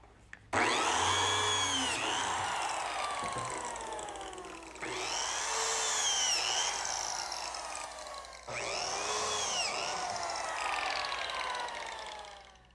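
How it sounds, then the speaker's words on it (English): Biscuit joiner cutting slots in cherry wood boards: three loud, high-pitched motor whines, each spinning up with a bite of the blade into the wood and running a few seconds before cutting off, with short pauses between and no talking. "So now I'll just cut some slots for the biscuits."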